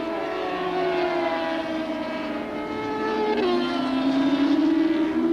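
A Yamaha superstock racing motorcycle's engine howls at high revs, a strong, steady tone that holds and then shifts pitch as the bike changes gear, loud and close on the race track.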